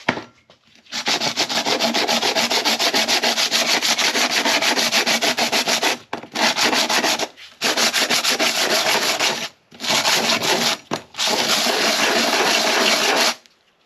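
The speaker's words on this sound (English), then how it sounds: "we'll get the sandpaper set up on this flat surface. We'll start off with some 60" A hydraulic roller lifter is rubbed back and forth on 60-grit sandpaper laid on a flat surface, giving loud, close, rapid scratchy strokes in long bursts broken by brief pauses.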